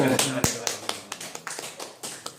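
Small lecture audience at a Korean talk on Mago history applauding to welcome two guests, a short, light patter of claps repeating quickly, near and fairly soft, with a voice speaking over it.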